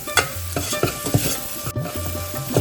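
Masala frying in oil for Maharashtrian katachi aamti, stirred with a spoon: soft continuous sizzle punctuated by close, regular scraping and tapping strokes against the pan, no voices.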